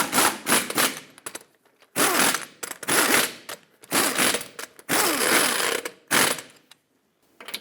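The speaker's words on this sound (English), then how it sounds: "torque them to 79 foot-pounds." A torque wrench ratchets wheel lug nuts tight to 79 foot-pounds on a 2008-2012 Honda Accord, producing around eight short, close bursts of rapid clicking separated by brief pauses.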